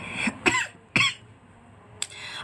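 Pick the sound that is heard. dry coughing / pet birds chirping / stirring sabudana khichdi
dry coughing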